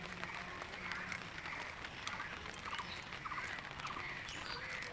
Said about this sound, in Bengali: বৃষ্টি হচ্ছে যার জন্য ছাতা নিয়ে বেরোলাম